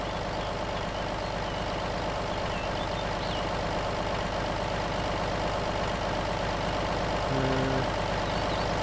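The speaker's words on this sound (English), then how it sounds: "Cut your engine off." A vehicle engine idling in DayZ, a steady low rumbling drone with faint rhythmic knocking, continuous and unchanging throughout, moderately quiet with no talk.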